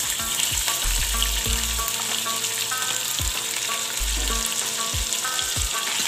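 Beef meat frying in a pot of golden-browned onions for haleem: a loud, continuous sizzle and crackle with occasional stirring scrapes, close up and steady throughout, with no talking.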